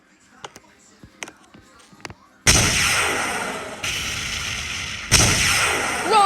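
Rocket launcher fire in a building demolition video game, with a few sharp clicks followed by two loud, sustained roaring blasts close up, each one cutting in abruptly and rumbling on.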